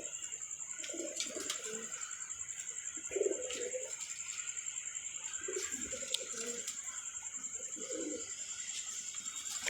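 Pigeons coo in soft, repeated bursts of low throaty calls at a moderate distance, spaced every couple of seconds, over a constant high insect-like whine and faint background noise.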